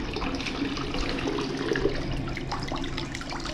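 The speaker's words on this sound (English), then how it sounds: "inside here, the spring water is still flowing" Cold spring water runs steadily inside the 1901 Providence Spring house at Andersonville National Historic Site, a soft continuous splashing flow heard close and alone.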